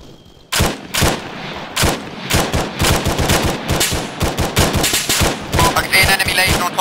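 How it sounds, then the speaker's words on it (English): Sustained gunfire in the military shooter game Arma 3, a dense run of loud close shots in rapid bursts with a few pauses, continuing to the end without clear talk. "We're taking fire from the east, from the field."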